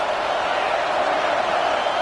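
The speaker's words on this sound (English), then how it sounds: "This crowd trying to make life miserable for this offense." Steady, dense roar of a packed football stadium crowd at an LSU game, a continuous wash of cheering and noise with no breaks, loud and close throughout.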